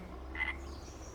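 Frogs and toads croaking at a pond in Farming Simulator 25, a faint low steady chorus with one slightly louder croak near the middle, alone with no talking.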